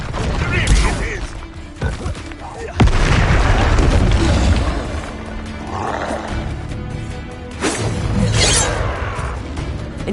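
An Incendio fire spell blasts in combat in the video game Hogwarts Legacy, a loud whooshing, booming burst over game noise with roaring and impacts, repeated a few times across the stretch.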